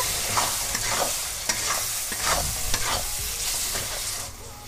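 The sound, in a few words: sautéing spice masala with chopped tomato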